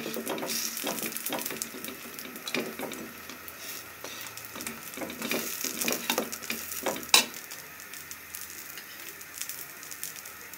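A vegetable paratha fries slowly in a pan with a steady close sizzle, broken by repeated scraping and stirring strokes from a spatula.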